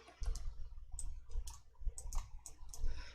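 Quick, close clicks from a computer mouse while working in an Excel spreadsheet, several light taps in an irregular rhythm over a low rumbling background.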